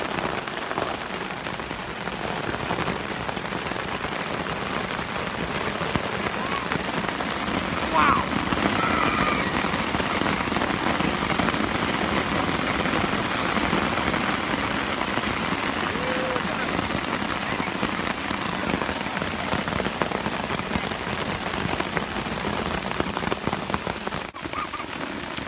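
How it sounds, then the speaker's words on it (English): A heavy rainstorm with hail pours down steadily and loudly throughout, a dense continuous hiss of drops and pellets striking surfaces up close. "We had a big rainstorm, which included hail."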